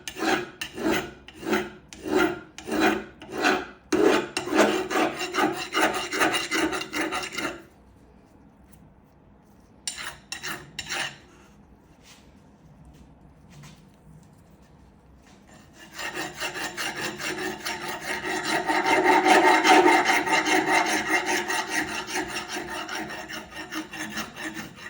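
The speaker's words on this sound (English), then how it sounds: "the filing that I'm doing, you can actually hear it, it's lighter" A file or rasp working on wood makes a quick, rhythmic run of rasping strokes, then a quiet pause with a few scattered scrapes, then a longer continuous stretch of close, steady rubbing.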